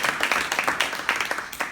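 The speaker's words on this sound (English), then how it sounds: "Round of applause, please." A small audience claps for a few seconds, a moderate patter of hands with irregular individual claps standing out, heard on its own without talk.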